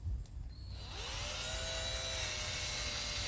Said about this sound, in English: Sometimes you can go at an angle and you pinch the rivet inside its hole like that.